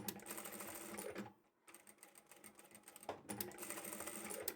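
A sewing machine back-stitches along a drawstring bag seam, running in quick rattling bursts, pausing briefly near the middle, then whirring again close and steady.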